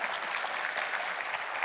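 An audience at a 2019 diverse-talent panel claps steadily, a dense, even patter of many hands heard continuously without speech.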